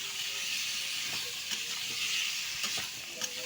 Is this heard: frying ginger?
yes